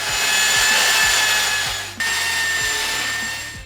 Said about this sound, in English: Looks like we need to sand a little bit off still, huh?